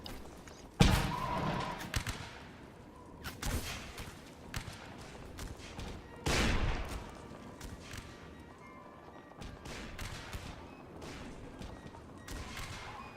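Massed musket and rifle volleys ring out in a North and South battle game, several regiments firing in bursts of crackling fusillade with heavy thumps, loud and sustained with rolling peaks throughout.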